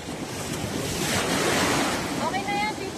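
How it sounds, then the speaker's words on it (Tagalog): Strong ocean surf breaks on Boracay beach in a continuous roaring wash that swells and recedes, with wind buffeting the microphone and a faint voice near the end. "Malakas yung alon ngayon."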